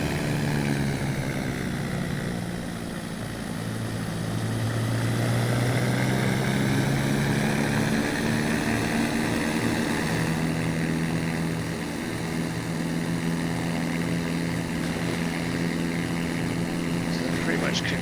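Jet engine of the XF14D aircraft in a video game, a steady droning hum with layered tonal whine that holds for the whole stretch and shifts slightly in pitch partway through.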